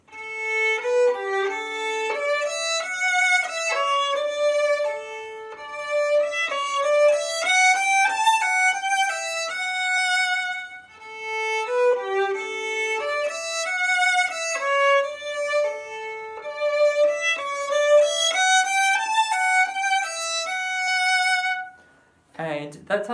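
Violin playing the opening of Musette with smooth bow strokes, a flowing melody of connected notes close and clear, with the phrase repeated after a short breath and no talking.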